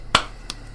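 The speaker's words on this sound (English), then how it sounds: "Sorry for the clapping." A single sharp hand clap rings out close and loud indoors, with a fainter second clap or echo just after.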